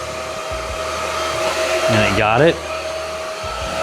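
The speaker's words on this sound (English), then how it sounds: "We're gonna vacuum this blue mat." A Supclean A10 cordless vacuum runs with a steady motor whine while picking up cat hair from a blue mat. Its drone stays continuous throughout, and a voice speaks briefly over it partway through.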